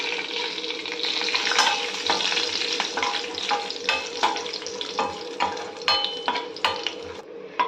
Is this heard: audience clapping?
no